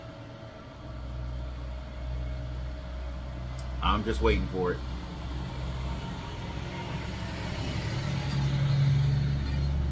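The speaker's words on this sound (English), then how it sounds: "Got the bus coming back through again" A school bus drives past outside, a low steady engine rumble that builds gradually toward the end, heard beneath someone speaking close by.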